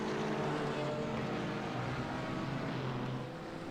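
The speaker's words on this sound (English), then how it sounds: "Great to hear and see these cars screaming their way down this part of the circuit" GT4 race cars at the Red Bull Ring in a sim racing game give a continuous loud, steady engine drone that holds the whole time and eases slightly near the end, with no talk.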